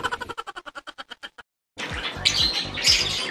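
Two green kingfishers give a rapid series of about a dozen clicking, ticking calls, evenly spaced and fairly close, followed by a burst of louder, harsher squawking over background noise.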